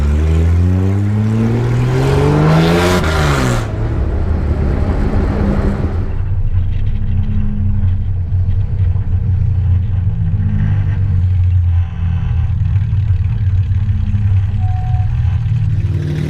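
A Jaguar XK120-based Salvadori classic sports car engine revs up sharply with rising whine, then settles into a deep, rumbling idle that burbles steadily, in London.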